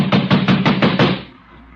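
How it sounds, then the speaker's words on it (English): Heavy banging on a door, six loud, evenly spaced thumps close by in quick succession before stopping, with no voices. "I'm going to bust this door down"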